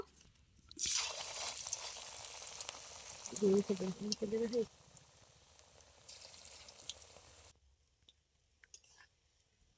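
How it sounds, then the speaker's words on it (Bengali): Cabbage pakoras frying in hot oil in a wok, a bright crackling sizzle rising as batter goes in, close and steady for several seconds with a voice speaking partway through, then fading to quiet. "এবার আমি অল্প অল্প করে দিয়ে পকোড়াটা ভেজে নেব"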